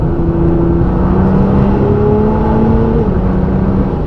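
Nissan GT-R engine and exhaust running steadily and loudly after a malfunction, a deep sustained drone with gently rising and falling tones, quieter than before, with no talking.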